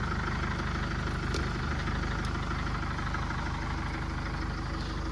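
A cargo van's engine idles evenly and steadily, a continuous close rumble with a faint mechanical tick and no talking throughout.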